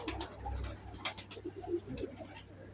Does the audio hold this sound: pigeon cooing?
yes